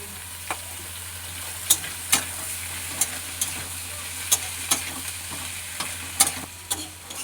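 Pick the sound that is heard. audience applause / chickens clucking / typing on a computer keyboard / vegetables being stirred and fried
vegetables being stirred and fried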